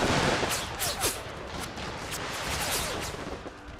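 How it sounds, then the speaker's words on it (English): An artillery barrage rumbles through an Empire: Total War ACW mod battle, with a dense wash of distant booms and crackling gunfire overlapping continuously, several sharper cracks standing out. "And here comes quite nasty barrage."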